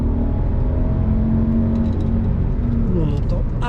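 Mercedes CL600 V12 engine pulling along a short straight, a steady, muted low drone with slowly rising tones, fairly quiet and smooth inside the car, with faint voices in the background.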